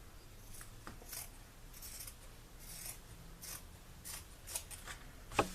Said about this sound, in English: And I'm just going to cut this off.